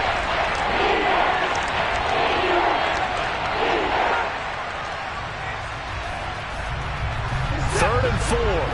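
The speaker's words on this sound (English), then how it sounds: "And this crowd urging on their defense. They're up and making noise." A stadium crowd roars at an NFL football game between the Browns and Texans, a steady, loud wash of cheering and noise that persists throughout with a commentator's voice over it.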